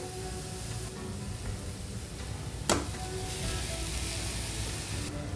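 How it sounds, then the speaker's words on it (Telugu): Grated amla frying in a pan while being stirred, a dense continuous hiss of sizzling oil, close and even, with one brief scrape partway through and no talk. "ఇప్పుడు ఒకసారి కలుపుకుందామండి చూడండి ఉసిరికాయ తురుము చక్కగా ఫ్రై అయిపోయిందండి"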